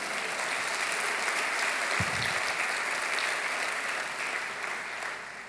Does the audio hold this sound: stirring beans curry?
no